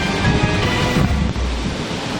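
Loud, dense rushing noise of heavy rain and strong wind gusts in Manila roars continuously, with a brief dip as a gust shifts.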